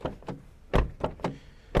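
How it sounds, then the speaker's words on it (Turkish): The trunk lid of a 2020 Peugeot 308 thuds shut with a solid close. Sharp knocks and clunks follow in a quick irregular series, loud and near, with no talking. "Şuradaki tutamaklardan tutup rahatça kapatabiliyorsunuz bagaj kapağını."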